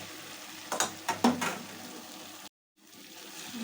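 Fried potatoes and bean seeds are tipped into sizzling chicken curry in a pan, bringing a few quick thuds and spatters over a steady frying hiss, then a brief dropout and the sizzle resuming.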